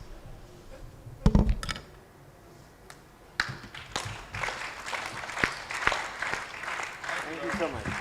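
A brief burst of audience clapping at a parliamentary budget office conference, mixed with scattered taps and a murmur of voices, building into a moderate round of applause in a room.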